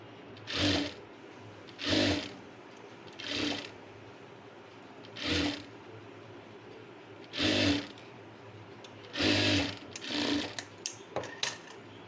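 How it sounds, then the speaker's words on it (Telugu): A sewing machine stitching fabric in short separate bursts of rapid whirring clatter, about seven runs with quiet pauses between them, close and fairly loud, with no talking. "మనము ఫ్రీగా ఇలా వదిలేసి కుట్టుకోవాలండి"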